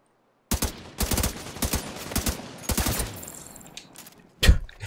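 Bursts of automatic gunfire from a high-recoil weapon in Tom Clancy's The Division 2, loud and close, rattling in rapid volleys separated by short pauses, with a final heavy burst near the end.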